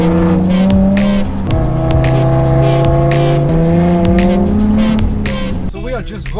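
Modified cars drive into a car meet at Castle Combe, heard with the windows down: a loud, sustained engine drone whose pitch slowly climbs and settles across the run, shifting character in the final second.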